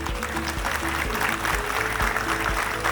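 A crowd claps at the inauguration of a shopping mall, with dense, sustained applause filling the space and a low amplified hum underneath, and no voices standing out.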